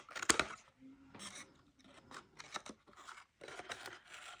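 Scissors cutting out the side of a small box for a miniature junk journal, a series of close, quiet snips and scraping blade strokes in uneven bursts.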